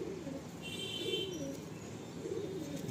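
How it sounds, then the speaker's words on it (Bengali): A restless Kalsira pigeon in a loft gives soft, low cooing in a rolling, wavering rhythm, steady and close, with a faint higher chirp partway through and no talking. "খুব ছটফটে পায়রা।"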